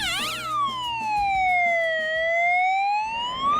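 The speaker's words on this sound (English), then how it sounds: "So if the siren wasn't enough to get attention" An armoured Audi police vehicle sounds its siren: a loud, close electronic wail sweeping down and back up in a long slow cycle, heard alone.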